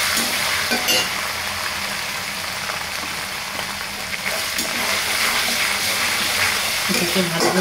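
Cinnamon, cardamom and bay leaves fry in hot oil for a village-style chicken curry, a continuous close sizzle with a few utensil knocks and stirring sounds, under brief background voices.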